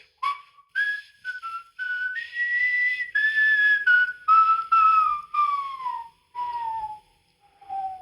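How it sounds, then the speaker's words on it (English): A video game character whistles a slow tune, clear and close, in a series of sustained notes with short gaps and gently gliding pitch, heard alone. "So, pass the time, I'm gonna whistle to you folks."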